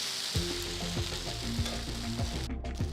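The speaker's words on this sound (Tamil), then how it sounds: "மெதுவாக திருப்பி போட்டுக்கலாம் தோசையை" Set dosa sizzles steadily on a hot pan as it is turned over, a close, continuous frying hiss with soft scraping and tapping from the turner and a brief quiet gap near the end.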